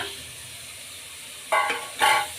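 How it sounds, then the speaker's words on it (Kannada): Onions and hyacinth beans fry in a pan for a mushroom keema, a quiet sizzle broken by two short bursts of stirring scrapes near the end. "ಈಗ ಈರುಳ್ಳಿಲೆ ಚೆನ್ನಾಗಿ ಸ್ವಲ್ಪ ಫ್ರೈ ಆಗಲಿ"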